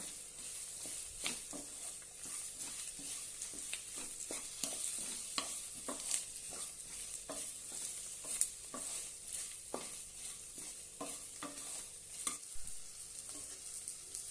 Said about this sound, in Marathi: आता यामध्ये भेंडी घालूया मस्तपैकी परतून घेऊया